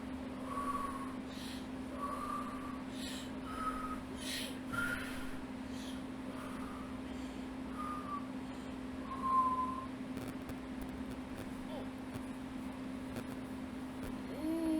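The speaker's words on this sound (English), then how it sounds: "See me, I'm whistling." Someone whistles a short, repeated tune of bright notes over a steady low hum and background noise, fairly faint.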